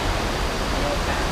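Chet Si waterfall in Bueng Kan, Thailand, a dense steady roar of falling water filling the whole short stretch without a break.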